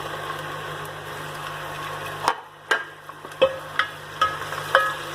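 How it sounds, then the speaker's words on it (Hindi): Tomato, green chili and coriander go into a sizzling pan for a mung dal dish: a steady frying hiss cuts off, followed by a string of sharp stirring and clinking knocks against the pan. "अब मैं डालूंगा इसमें टमाटर और हरी मिर्च और धनिया।"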